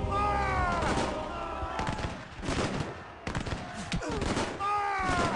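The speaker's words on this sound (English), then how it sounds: "As they approach the British line, the first shots are exchanged." Musket volleys exchanged between Napoleon's Imperial Guard and the British line at the Battle of Waterloo, a dense, continuous crackle of shots mixed with a loud, busy battlefield soundscape and voices.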